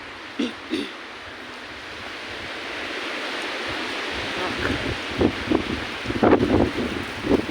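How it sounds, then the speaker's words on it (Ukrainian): Strong wind buffeting the microphone outside a zoo in Guadalajara, Spain, a steady roar of gusts with rustling and a few soft knocks. "Сьогодні піднявся такий вітер."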